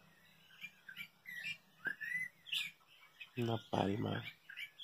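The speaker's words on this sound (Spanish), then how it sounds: "Voy a ver si logran escuchar los pajaritos cantar." Small birds chirp and whistle at sunrise on a ranch in short, scattered calls, with a voice speaking briefly partway through.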